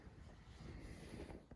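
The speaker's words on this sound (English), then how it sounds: "Hope you can hear okay in the wind. It's very windy today" Steady low rumbling buffet of wind hitting a microphone in a front garden vegetable bed on a very windy day, broadband and continuous throughout with no talking.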